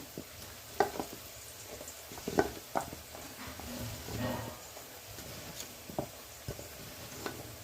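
Chopped vegetables for avial, a Kerala mixed-vegetable curry, tumble into a cooking pot with half-cooked long beans and are stirred, giving scattered soft clatters and scraping taps over a quiet background.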